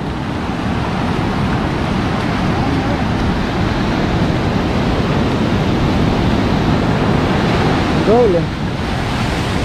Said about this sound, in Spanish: Muy fuerte el borbollón aquí